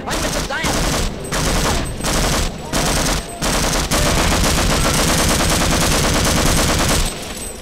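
Dense automatic gunfire from the video game Half-Life rattles loudly and almost continuously in long bursts with brief gaps, close and dominant.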